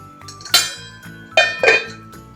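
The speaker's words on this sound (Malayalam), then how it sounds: "ഇളക്കി നന്നായി വേവിക്കാം." A spoon stirs a jackfruit seed and mango curry in a cooking pot, making a few clinking scrapes against the pot in separate bursts over a steady low background hum.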